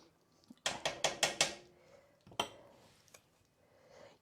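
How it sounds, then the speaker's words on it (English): Metal spoon stirring jalapeno bacon cheese soup in a pot, a quick run of five sharp clinks and scrapes followed by a couple of softer knocks, close and alone. "Let's just stir that around."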